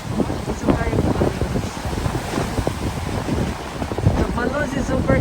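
Strong wind roars steadily at a seaside resort in Glan, Sarangani Province, buffeting the microphone alongside rough surf and waves, loud and continuous throughout, with people talking faintly beneath it.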